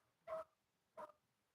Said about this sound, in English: Dog's freaking out about it